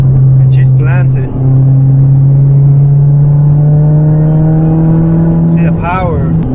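A supercharged Mazda ND Miata's engine drones loudly and steadily as it accelerates in fourth gear after a downshift, with someone talking briefly near the start and end.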